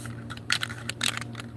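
A nearly empty can of enamel spray paint sputters, giving uneven crackling hisses and short spitting bursts over a low background hum.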